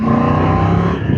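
Triumph Tiger 900 Rally Pro motorcycle engine revving loudly and steadily up close, a dense sustained roar with strong low harmonics that drops off slightly near the end.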